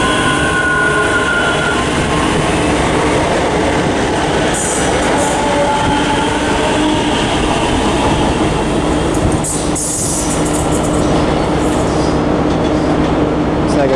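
A ScotRail class 334 electric train pulls into Haymarket station, a loud, close rumble of wheels and motors with clicking and squealing from the rails, running steadily the whole time.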